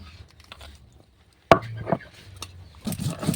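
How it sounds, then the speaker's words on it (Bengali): Green chillies being ground into paste by hand for a dhania chicken recipe, with irregular rough scraping and thudding strokes, quiet at first and then louder and denser, close up. "তারপর আমি কাঁচা লঙ্কাটা বেটে নিব"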